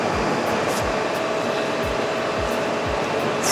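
A wire cutting machine runs on a motorsport parts factory floor, giving a loud, steady whirring hiss with faint, regularly spaced ticks and thumps beneath it.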